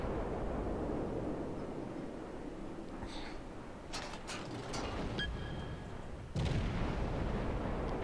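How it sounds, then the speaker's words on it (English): Naval guns firing from the USA cruiser Omaha in World of Warships, a steady low rumble of engine and sea with several sharp gun reports and mechanical clanks, ending in a louder heavy blast. "Shooting from 5 guns."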